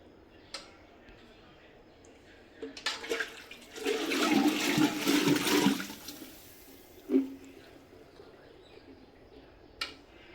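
Freshly churned butter is washed in water at a village farm: a burst of splashing and sloshing swells in the middle, with fainter clinks and drips before and after.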